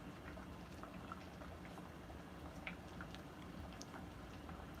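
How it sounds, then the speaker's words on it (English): Habanero ketchup simmering in a pot, faint soft bubbling with scattered small pops and ticks over a low steady background, quiet and continuous. "Or if you would like to just sit in silence and listen to the bubbling."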